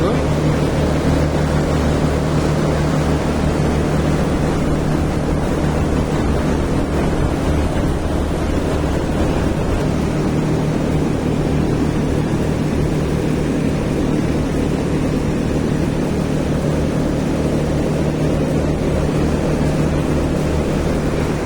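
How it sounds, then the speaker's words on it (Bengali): Two electric motors run on a four-tier H-type layer chicken cage, giving a steady, loud, continuous hum and rumble that holds evenly throughout with no breaks. "আমরা এই যে 4 তলা খাঁচা 2টা মোটর দিয়েছি।"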